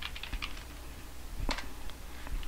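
Rapid keystrokes on a computer keyboard, a quiet irregular patter of clicks with a few sharper taps, heard alone at low level.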